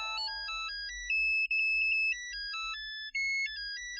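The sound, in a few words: phone ringtone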